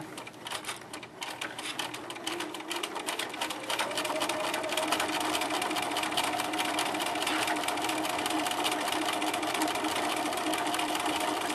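Sewing machine stitching slowly through three layers of a ski hat seam, a steady close rhythmic whirr that grows louder and denser partway through and runs continuously with no talking.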